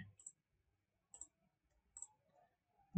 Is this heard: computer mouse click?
yes